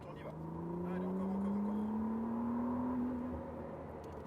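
A McLaren Artura sports car on a circuit hums along under a steady engine drone that rises smoothly in pitch as it accelerates, heard from inside the cabin, then eases off toward the end.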